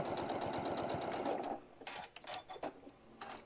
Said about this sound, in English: Once you have it top stitched, this piece is complete.